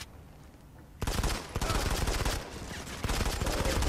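Gunfire in the mobile shooter Modern Combat 5: Blackout, a sudden dense burst of rapid automatic shots that keeps going loud and close after a quiet start.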